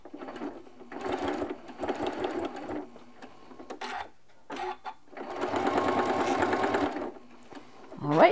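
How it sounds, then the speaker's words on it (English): A sewing machine stitches quilt binding along a quarter-inch seam in several bursts of rapid mechanical whirring, the longest near the end, with short pauses and light handling noise between runs. "I just need to stitch along with that quarter inch seam till I meet up at the other edge"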